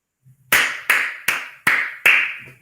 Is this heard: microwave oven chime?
no